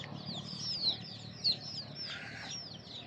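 Chicks and hens on a farm raising free-range native chickens give soft peeps and low clucks, faint and somewhat distant, with chirps rising and falling over a quiet outdoor background.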